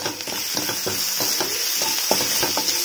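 Turmeric and spices fry in a pan with a steady hiss of hot oil, broken by quick, rhythmic scraping as they are stirred, close and loud with no voices.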